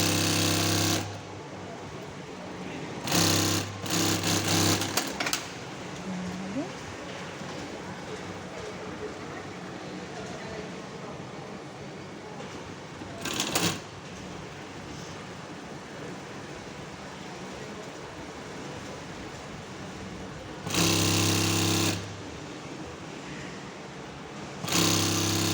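A sewing machine stitches seams on a two-seat cushion in several loud bursts of rapid mechanical running, separated by quieter stretches with a faint background hum.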